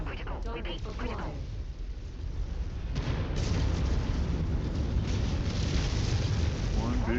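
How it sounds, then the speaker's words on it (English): A big ammo explosion in MechWarrior 5 produces a dense, roaring blast that swells and sustains as a loud rumbling wall of noise, with voice chatter heard early before the boom takes over. "One big ammo explosion."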